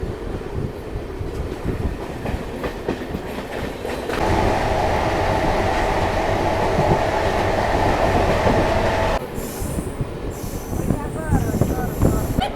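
A local train rolls into Balasore railway station, its wheels clattering and squealing close by, with a loud sustained rumble and metallic screeching while people talk faintly nearby.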